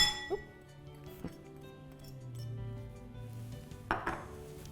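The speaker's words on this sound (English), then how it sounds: "Give this a mix." Turmeric, ground ginger and garlic powder being whisked into a lemon-juice and oil dressing in a bowl, giving a few light clinks of utensil on the bowl, with a scraping swirl through the middle and a sharper clink near the end.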